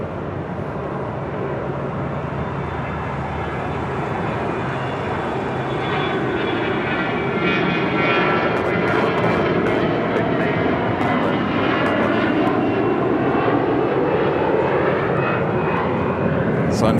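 A jet airliner taxiing at LAX, with a steady, continuous engine whine and rumble that holds loud and close for the whole stretch, and voices talking over it.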